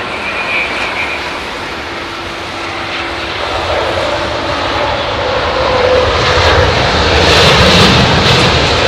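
An airliner at London Heathrow during low-visibility operations, its engine noise a loud continuous roar that swells slightly toward the end, with a faint tonal whine passing through and no talking.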